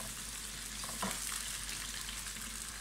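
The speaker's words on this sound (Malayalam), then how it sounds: "ഇത് നന്നായിട്ടൊന്ന് ഫ്രൈ ചെയ്തെടുക്കാം" Chicken for a dum biryani fries in a pan, a steady close crackling sizzle that holds evenly throughout with a faint clink near the middle, no voices.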